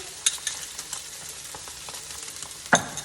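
An egg cooking in a frying pan over low heat for an Italian submarine sandwich: a quiet, steady sizzle with scattered light clicks and one sharper scrape of a utensil, close up.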